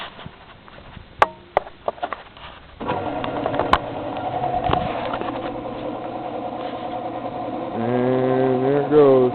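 A homemade air compressor built from a car A/C compressor with a bypassed solenoid clicks on and starts up, settling into a steady mechanical hum and rattle that grows louder and rises in pitch near the end.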